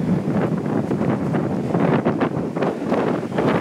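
Strong gusty wind buffets the microphone throughout while walking outdoors on a city street in Tokyo, a loud, continuous roaring rumble with surging gusts and no talk.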